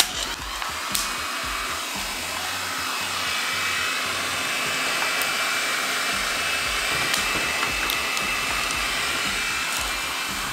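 A hair dryer with a dust-blocking cover over its intake blows with a steady, loud whooshing roar that holds constant throughout, with a few faint clicks on top.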